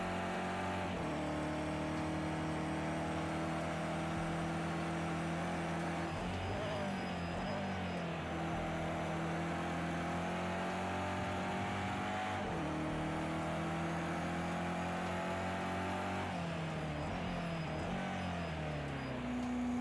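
A GT3 race car in Project Cars 2 at Bathurst roars loud and close for the whole stretch, its engine rising in pitch and then dropping at each of several quick upshifts, with faint tyre noise underneath.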